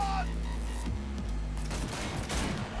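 Gunfire from the Cyberpunk 2077 video game, with dense bursts of shots and booms in a sustained fusillade amid game sounds, loud and continuous across the whole stretch.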